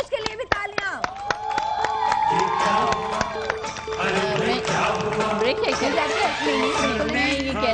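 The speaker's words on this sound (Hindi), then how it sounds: "उरूज के लिए भी तालियां।" A studio audience on a morning TV show claps sharply at first, then the crowd cheers and chatters loudly, with a woman's speech mixed in.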